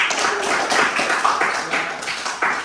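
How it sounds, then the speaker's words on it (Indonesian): Classmates applauding a student group in a classroom after a presentation on digestion and nutrition, a small group of hands clapping near and fairly loud, with uneven sharp claps standing out from the steady patter. "Beri tepuk tangan."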